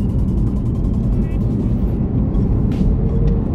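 BMW 4 Series M Pack engine revving under acceleration, a steady loud low rumble heard from close by with a brief higher whoosh partway through.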